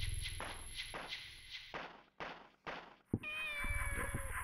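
A cat mews in the video game Shenmue: several soft, fairly distant meows spread across the clip, mixed with footstep-like thumps and quiet game ambience.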